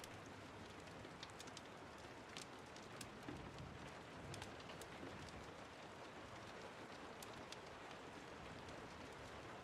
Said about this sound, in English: The rain sounds make it so comfy.